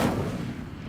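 The Incendio fire spell goes off in Hogwarts Legacy as one loud, booming burst with a whooshing rumble that fades over under a second.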